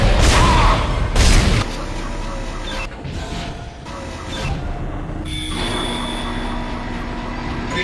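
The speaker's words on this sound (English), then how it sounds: "Replacing damaged tram car. Please stand by." Heavy rumble and clanks of a damaged tram car on tracks in the sci-fi video game Dead Space, with two loud impacts at the start followed by a sustained mechanical drone and whirring tones.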